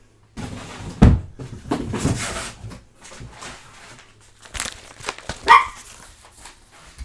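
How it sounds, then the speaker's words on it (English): Dogs bark indoors in a few loud, separate bursts spread over several seconds, with quieter rustling and knocking in between. "Their bark when you have the headset on is just like..."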